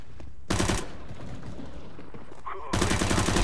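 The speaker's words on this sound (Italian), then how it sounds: "Ci sono i miei compagni di squadra che mi sparano anche a me." Teammates' gunfire in the game CS:GO sounds as two loud, close automatic bursts, one short and one longer, separated by a quieter stretch of faint background game noise.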